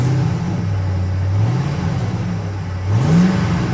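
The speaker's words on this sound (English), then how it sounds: "It sounds like the misfire's trying to smooth out." A rough-running ambulance engine idling with a misfire, its low uneven drone wavering and surging in pitch as it tries to settle.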